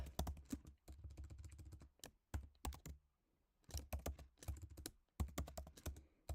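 Quick bursts of typing on a computer keyboard, clattering key presses in short runs broken by brief pauses, close and quiet, with no talking.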